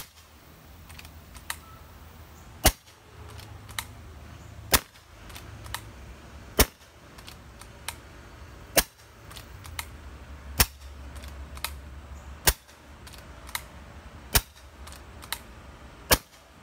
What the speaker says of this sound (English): let's see if she's capable of another 48 shots